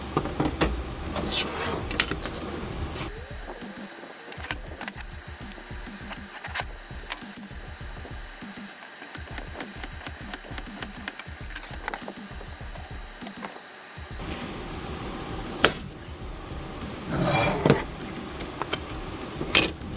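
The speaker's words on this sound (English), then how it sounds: "I'll round off these corners on the bandsaw." A bandsaw rounds off the corners of a wooden speaker blank in a workshop, with a steady motor whine and rising rasping bursts as the blade bites the wood, near and fairly loud, broken by brief quieter gaps.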